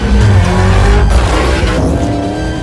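A Lamborghini Urus super SUV drives past loud and close, its engine roaring steadily with a rough, broadband rush of tire and road noise.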